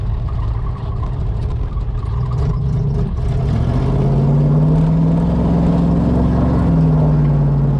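A rusty 1974 Chevy Camaro that needs tuning revs hard while doing donuts. Its engine roars loud and close, climbing to a sustained high-rev howl, with no talk.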